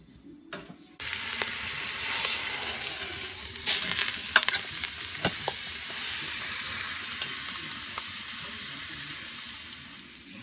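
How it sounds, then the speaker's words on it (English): A beef shoulder roast browns in olive oil on the saute setting of an Instant Pot, giving a continuous close, bright sizzle with scattered pops and crackles throughout. "I'm going to brown each side of my shoulder roast for about 3 or 4 minutes"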